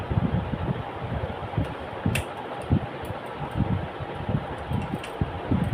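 A sewing machine stitches along a marked line on a cloth bag. It gives a steady mechanical whir with low, regular thumping pulses, close and continuous, with no talking.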